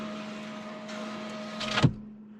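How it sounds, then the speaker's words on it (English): Electric window motor of a 2020 Polestar 2 running with a steady whirr, then ending in a soft thud as the glass seats and stops. "A way that I judge the quality of a car is by the noise of the electric windows and the wipers. So if I do the windows,"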